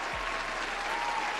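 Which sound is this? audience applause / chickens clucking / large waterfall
audience applause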